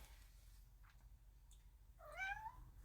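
A pet cat gives a single drawn-out rising meow, faint and somewhat distant, after a few soft indistinct sounds over a steady low background hum.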